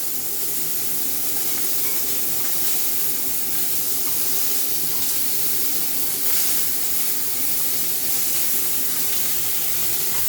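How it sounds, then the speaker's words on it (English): Beef sears in a pan for a beef pie, giving a loud, steady sizzling hiss throughout with no pauses. "When you're cooking, especially beef, do not push the pan. Just leave the meat sear."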